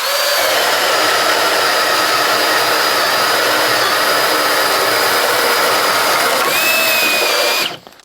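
A Flex cordless power tool runs steadily at speed setting 2 without turbo mode, giving a loud, continuous high-pitched motor whine for several seconds before cutting off abruptly at the end.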